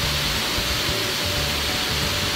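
A waterfall roars steadily on a hike at Silver Falls, a dense, constant broadband rush heard up close from underneath the falling water, with no break or other sound over it.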